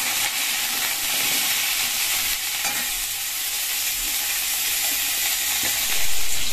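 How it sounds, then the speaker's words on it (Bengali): Cauliflower frying in a little oil in a wok for a Bengali dish: a dense, even hiss of sizzling oil runs throughout, with occasional soft stirring scrapes and a slight swell near the end. "প্রথমে তো জানোই আমি ফুলকপিটা ভেজে নিই অল্প তেলে।"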